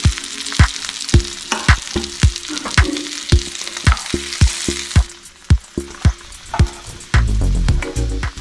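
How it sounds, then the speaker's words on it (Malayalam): Chicken pieces frying in a pan as they are turned, a loud sizzle punctuated by sharp, rhythmic clacks of a utensil against the pan, swelling into a denser sizzle near the end, no speech. "എല്ലാ സൈഡും നമ്മൾ മറിച്ച് നമ്മൾ ഫ്രൈ ചെയ്തെടുക്കണം"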